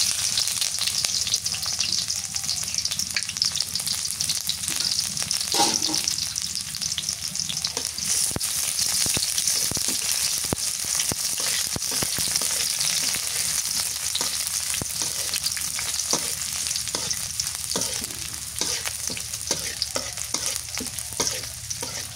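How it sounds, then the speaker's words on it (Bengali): Chopped onion sizzles loudly and continuously in hot oil in a pan, with occasional scraping stirs and utensil knocks over about twenty seconds, no one speaking. "পেঁয়াজ ভাজা হয়ে গেছে"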